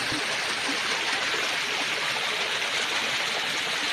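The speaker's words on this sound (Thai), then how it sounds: "เป็นจุดที่น้ำตกเป็นจุดที่น้ำสอดหินครับ" Water from a forest waterfall pours over rocks in a steady, even rush of hiss and splash, close and continuous, with no voices.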